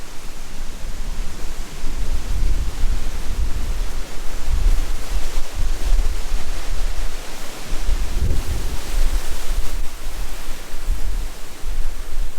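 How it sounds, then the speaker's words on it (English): Strong wind roars over choppy lake water at Lake Maria State Park, a loud, broad rushing blast with low buffeting gusts that hits the microphone close up and never lets up. "look at that choppy water. Wow. The wind is really blowing here"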